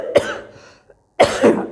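Two sharp, close coughs separated by a short pause, the second one harsher and longer.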